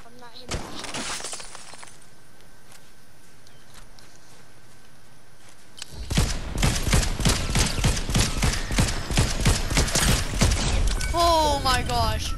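Rapid Fortnite gunfire bursts in with a dense stream of sharp cracks after a quiet stretch, continuing loud and rhythmic to the end, with game effects and voices mixed in.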